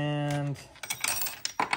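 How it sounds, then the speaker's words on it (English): A 4mm Allen wrench clatters with a few light metallic clinks and bounces after a steady tonal hum cuts off, close by. "drop my 4mm Allen wrench"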